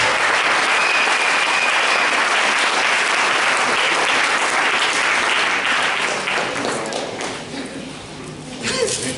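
A church congregation at a Sunday service claps loudly and steadily, dense sustained applause filling the room while voices call out beneath it, fading a little toward the end.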